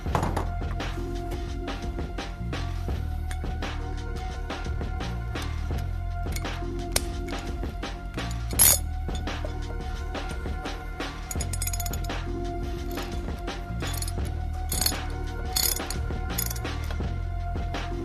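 A ratchet tightens a motorcycle axle bolt, sending out a fast, steady run of clicking pawl strokes in repeated back-and-forth cycles with an occasional metallic clunk, close and alone without talk.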